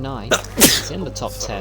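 A single short sneeze cuts through rapid commentary on a sim-racing broadcast, loud and abrupt, with the talking carrying on around it.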